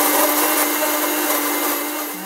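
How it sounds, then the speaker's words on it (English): An electric blender whirs loudly and continuously as it purées washed fresh strawberries for fruit yogurt, a steady high motor roar with no voices, easing slightly toward the end. "bây giờ đang nằm trong máy để xay"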